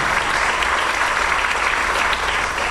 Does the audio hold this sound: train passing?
no